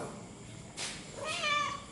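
A house cat lets out a drawn, rising meow near the end after a brief rustle, close and fairly clear over a faint room background, recorded at night.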